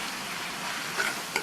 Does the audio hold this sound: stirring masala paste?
yes